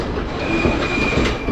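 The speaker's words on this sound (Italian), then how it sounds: "Sta arrivando il treno." A train pulls into a railway station in Colombo, Sri Lanka: a loud, close, continuous rumble of wheels on rails with a thin, high wheel squeal running through it.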